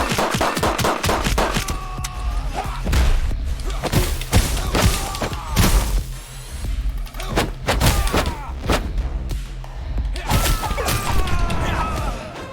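Midnight Fight Express video game combat, a dense run of rapid gunshots, bursts and heavy thuds and crashes, loud and continuous with short lulls, with a voice briefly heard in the mix.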